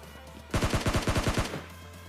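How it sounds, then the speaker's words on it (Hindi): Automatic gunfire fired from a window in a battle royale game: a rapid burst of about ten sharp, evenly spaced shots lasting roughly a second, loud and close, with quiet ambience before and after. "खिड़की से मैं फ्री फायर देने की कोशिश करता हूँ लेकिन कोई नॉक नहीं होता"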